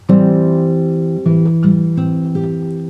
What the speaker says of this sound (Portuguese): é um som de uma tríade maior com o baixo na terça,